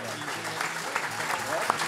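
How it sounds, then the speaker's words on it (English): Audience applause fills a gala hall at the ATP Finals in London, a steady wash of many hands clapping at moderate loudness, with a presenter's voice carrying over it. "A round of applause"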